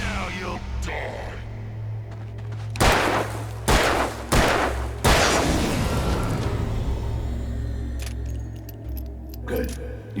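Gunshots in the video game Alan Wake, three or four loud, sharp cracks fired in quick succession over a low rumbling ambient drone, with fainter clicks afterward.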